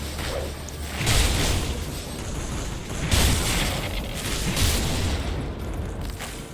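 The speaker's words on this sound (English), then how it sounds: "What are all those explosions?" Explosions in the video game Grim Dawn, a continuous barrage of booms and bursts with whooshing impacts, swelling loudly around several points and layered over a dense rumbling background.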